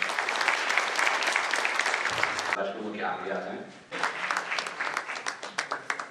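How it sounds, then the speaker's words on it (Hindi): A crowd at a Rozgar Mela job-fair launch in Srinagar, led by the Lieutenant Governor, claps loudly and densely. The clapping breaks off briefly while a voice speaks, then resumes in strong bursts that taper at the end. "जोरदार तालियां।"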